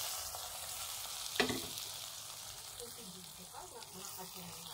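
Onion fries in a pan with a steady close sizzle and crackle, a brief stirring clatter early on, and faint talk underneath.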